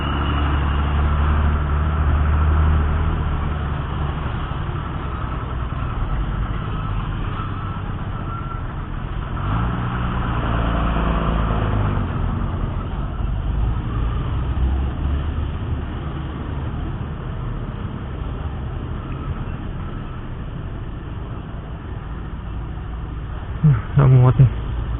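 Engines idle and rumble low in a road traffic jam, heard from a motorcycle, with someone talking over the steady drone and a brief louder engine burst near the end.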